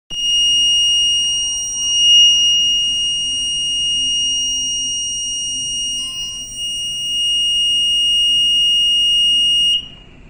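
A steering gear safety alarm on a ship sounds during a test: a loud, steady high-pitched electronic tone that holds for nearly ten seconds and then cuts off, with quiet machinery hum underneath.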